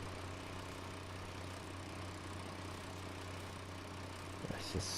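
Steady low idling rumble of a tractor engine in Farming Simulator 19, droning evenly throughout, with a couple of brief knocks near the end.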